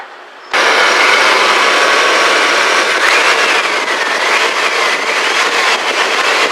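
A Chevy S10's 4.3-liter engine starts up after a distributor cap repair, settling at once into a loud, steady, even idle that runs without a break, close to the microphone.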